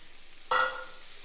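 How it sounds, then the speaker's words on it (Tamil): Boiled cabbage drops into a pan of sautéed onions with a single sudden sizzling burst that fades over about half a second, heard close and alone. "இப்போ நம்ம வேக வச்ச முட்டைக்கோஸ் சேர்த்துடலாம்."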